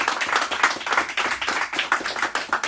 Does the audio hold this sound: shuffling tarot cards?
no